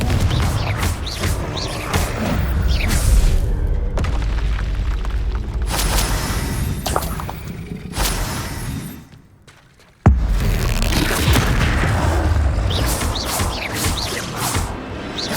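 Repeated Confringo spell blasts in Hogwarts Legacy, deep booming explosions with crashing debris and whooshes in rapid succession, loud and close, with a brief quiet gap before the barrage resumes.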